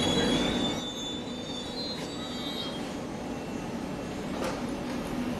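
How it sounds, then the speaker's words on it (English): A long train rolls past in Switzerland, its wheels squealing with high, piercing metallic tones over a steady rumble of rail noise that holds for the whole stretch. "Look how long that train is"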